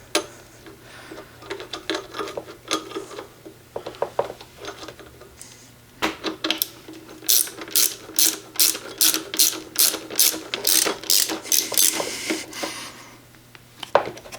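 A ratchet clicks while tightening bolts on a Pan America 1250 motorcycle fender, with scattered clicks at first and then a rapid, even run of close, crisp pawl clicks before it slows and stops.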